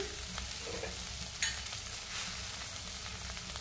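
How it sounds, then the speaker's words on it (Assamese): Shrimp and duck egg frying in a pan with a little onion give a quiet, continuous sizzle, with a single soft clink partway through. "মিছা মাছখিনি অকণমান পিঁয়াজত ভাজি ল'লোঁ তাৰপিছত এনেকৈ হাঁহ কণীটো ভাঙি এনেকৈ দি দিছোঁ"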